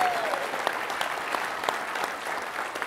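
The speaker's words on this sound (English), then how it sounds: "So give them a round of applause," Audience applause at a football film-study event during a Michigan Wolverine weekend, a steady dense wash of many hands clapping throughout, moderately loud and even, with no talk over it.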